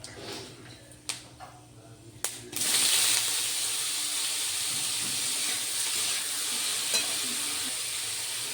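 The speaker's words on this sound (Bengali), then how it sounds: "5 ফোড়ন দিয়ে ওর ওপরে ফুলকপিটা দিয়ে দিলাম। দিয়ে এবার একটু নাড়াচাড়া করে" Cauliflower frying in oil with panch phoron, green chilli and grated ginger for cutlets: a few sharp clinks and scrapes, then a loud, steady close sizzle after the florets go in, with faint stirring under it.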